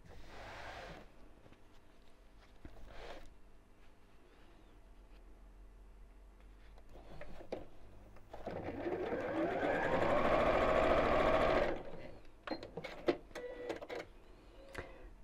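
A sewing machine joins small fabric squares for a pinwheel pin cushion in one steady, close run of a few seconds, with quieter handling sounds of the cloth before and after.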